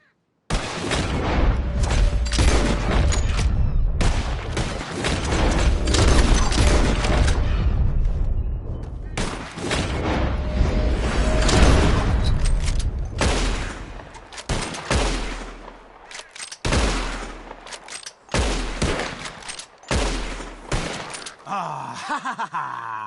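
Gunshots fired at flying birds in a video game, a long stretch of heavy, booming shots in dense volleys, then sparser separate blasts with pauses between them, loud and close.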